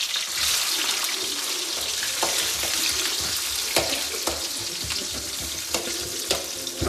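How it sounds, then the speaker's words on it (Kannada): Onions, green chillies, ginger and garlic frying in oil with mustard seeds for a mushroom dish, a steady close sizzle with occasional stirring scrapes and faint pops, no talking. "ಸೊ ಇದು ಆನಿಯನ್ ಎಲ್ಲ ಚೆನ್ನಾಗಿ ಫ್ರೈ ಆಗ್ಬೇಕು"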